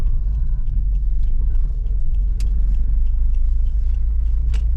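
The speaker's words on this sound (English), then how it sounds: "Just pulling into the Tesco petrol station just off the motorway." A car pulls into a Tesco petrol station just off the M6 motorway, its engine a steady, close low rumble throughout with faint road and mechanical noise above it.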